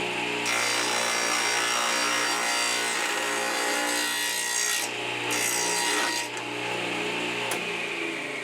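A table saw cuts into a wooden hub for a whirligig propeller, a loud close whine and rasp of the blade through wood that is held steadily with short shifts in pitch.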